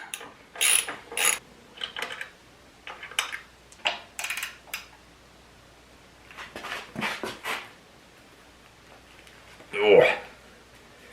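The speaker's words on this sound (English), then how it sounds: "Yeah, maybe a ratchet wrench isn't a good idea for that." A ratchet wrench clicks in short bursts while working tight crash bar bolts on a Tenere 700 motorcycle, close and intermittent with pauses, as someone talks in between.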